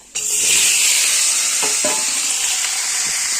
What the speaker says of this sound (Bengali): পেঁয়াজ ভাজা হচ্ছে, ঠিক আছে। আলুটা এখন দিয়ে দেবো